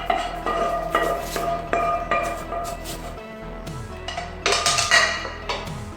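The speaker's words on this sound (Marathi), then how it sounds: "तर आपल्याला लगेच आता ही दुधामध्ये घालून घ्यायची आहे. अगदी व्यवस्थित मिक्स करून घ्यायची." A melted ingredient is stirred into milk for matka kulfi, with a spoon clinking and scraping against a metal pot in repeated close strokes and occasional louder taps.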